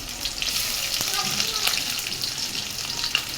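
Onions and ginger sizzling in a hot frying pan, a steady bright crackling hiss with small pops, close and continuous, with brief clinks of a utensil.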